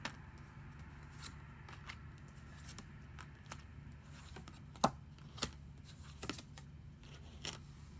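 Tarot cards pulled one at a time from a deck without shuffling, giving faint, sparse papery snaps and slides against a quiet room hiss, with a sharper flick near the middle.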